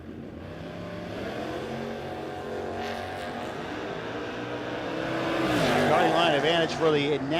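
Drag race cars launching and accelerating down a drag strip at a no-box drag racing shootout, engines building from a steady roar to a louder rising pass, heard under a commentator's voice.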